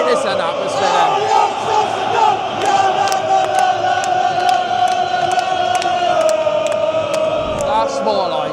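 Football fans at a Galatasaray home match against Ajax chant in unison across the stadium, a loud, sustained rhythmic roar of many voices filling the whole stretch.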